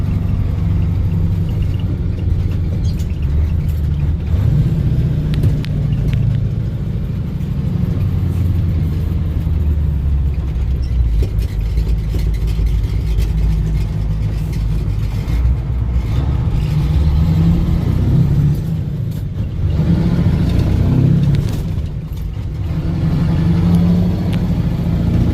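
A 1985 Ford F-8000 truck with a CAT 3208T diesel engine driving on a cold snowy day at about half throttle, a loud, steady low rumble heard from inside the cab with slight dips and rises in engine load.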